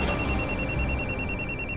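A phone ringing again in a domestic drama scene, a steady electronic ringtone with high pulsing tones repeating throughout at moderate loudness over a low background rumble.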